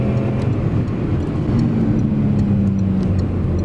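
From inside, a Peugeot 301 with a 1.2 engine running on LPG through a Landi Renzo gas system accelerates with a continuous loud engine drone and a faintly rising tone, and no one speaks.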